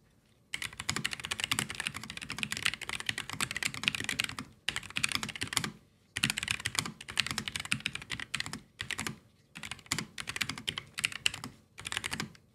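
Typing on a Keychron mechanical keyboard, a dense run of clacky keystrokes in several bursts separated by short pauses, close and clear with no voices.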